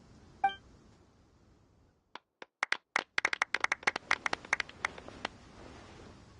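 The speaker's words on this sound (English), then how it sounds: "Let's give our champion Kaveh one last big round of applause" Scattered hand claps from a small group build into a brief round of applause for the champion at an award ceremony in the Genshin Impact video game, following a single sharp clink and a moment of silence.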